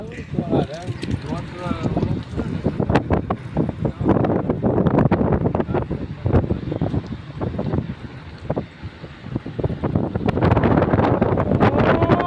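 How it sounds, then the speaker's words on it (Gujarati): A whirlwind, or dust devil, sweeps across the hillside at Maneknath hill. Loud, gusty wind buffets the microphone in rough, continuous surges that swell again near the end, while people talk throughout. "ચકરડી આવી ચકરડી ચકડી ભૂતેડો કહેવાય"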